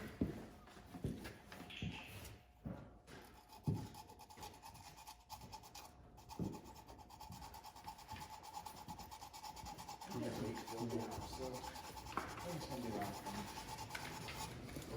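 Brake rotors on a 1950 Chevy 3100 hand-sanded with 220-grit sandpaper, a soft, steady rasping rub with a few knocks, close and faint, growing denser toward the end.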